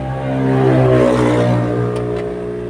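A loud, rough engine with a loose, detached exhaust pipe drones and swells with a raspy, rattling exhaust note while climbing uphill near Atimonan, Quezon, steady throughout with no voices.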